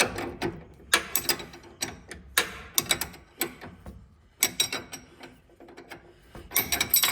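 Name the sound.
wrench loosening ball joint stud nut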